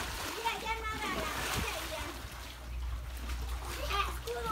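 Children splash and slosh in a rooftop swimming pool, steady close splatter throughout while young voices chatter and call out over the water.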